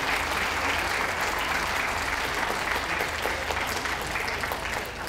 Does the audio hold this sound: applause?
yes